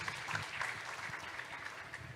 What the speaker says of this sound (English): A warm applause for Jairan